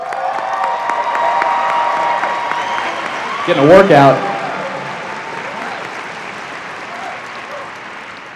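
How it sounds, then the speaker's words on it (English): Audience at a high school commencement ceremony applauding teachers, a steady wash of clapping with a brief louder swell where a voice speaks over it. "let's give them a big round of applause"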